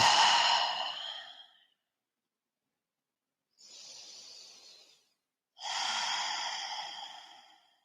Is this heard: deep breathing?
yes